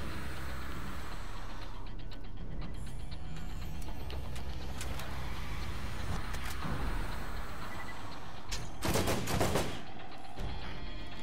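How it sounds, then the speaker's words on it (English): A burst-fire gun in the Borderlands video game fires quick clustered volleys of shots, rattling in repeated bursts with a louder dense cluster near the end, under a continuous background of game noise. "I like the burst fire."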